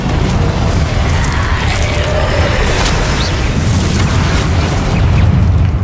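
A Confringo fire spell from the video game Hogwarts Legacy explodes with a loud, sustained booming roar that fills the whole stretch, a dense rumbling blast with no clear pauses.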